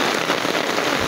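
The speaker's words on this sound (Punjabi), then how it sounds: "ਬਹੁਤ ਪਿਆਰੀ ਬਾਰਿਸ਼।" Heavy rain pours down in a dense, steady hiss with no pauses, loud and close for about a second.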